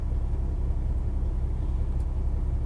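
Kenworth T680 with an MX13 engine idling during a forced regeneration, a steady low diesel rumble, close and unchanging.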